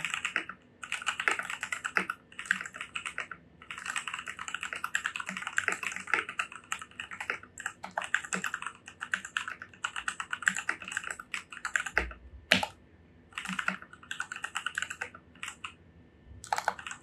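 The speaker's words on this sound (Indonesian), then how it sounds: "Langsung aja kita ke typing test." Steady, fast typing on a custom mechanical keyboard with artisan keycaps, continuous close-up keystroke clatter with brief pauses and no talking.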